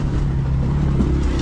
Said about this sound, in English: Got a motorcycle coming up behind us.